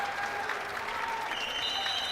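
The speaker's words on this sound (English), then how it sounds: "Gets a big standing O from the crowd." Crowd giving a standing ovation at a men's college basketball game between Yeshiva Macs and Manhattanville Valiants, steady dense applause filling the gym for a couple of seconds, fairly loud and even.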